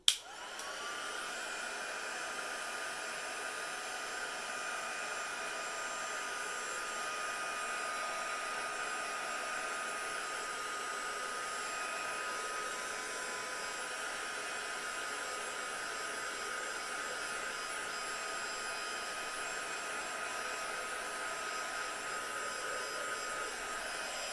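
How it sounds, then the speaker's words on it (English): A heat gun used for paper crafting with an embossing folder switches on with a click and blows steadily, a constant airy whine that holds at even loudness close by with no talking. "Just going to give this a quick going over with my heat gun."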